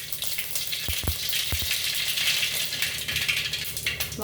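Mustard seeds crackling and sizzling in hot oil for a kuzhambu, a steady close fizz with a few sharp pops near the start, no talking.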